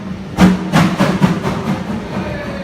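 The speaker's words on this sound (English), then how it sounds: "When she starts moving backwards, she starts moving to the back of the train, and she puffs off." A steam locomotive on the North Yorkshire Moors Railway, running in reverse alongside its train, puffs off with a loud, close sequence of rhythmic chuffs that gradually fade.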